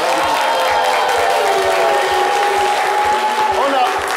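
A studio audience claps and cheers steadily at a French-language live show, dense and loud throughout, with a host's voice carrying over the noise.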